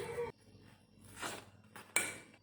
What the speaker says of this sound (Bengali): এখন আমি ভালো করে মিশিয়ে নেব। মেশানোর জন্য নিয়েছি একটা কাঁটা চামচ।